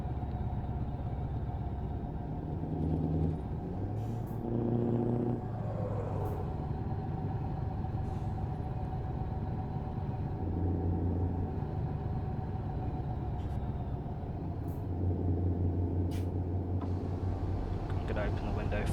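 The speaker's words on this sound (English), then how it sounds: "just so you guys could hear this amazing engine noise." Truck engine in Euro Truck Simulator 2, ProMods, driving toward the North Cape: a steady low drone with periodic rises in pitch and load as it pulls, voice talking over it throughout.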